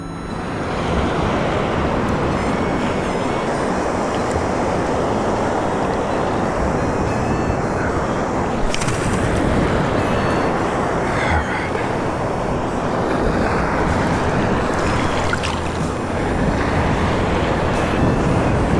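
Loud, continuous roar of breaking surf with a windy rush, waves crashing without pause and no voices.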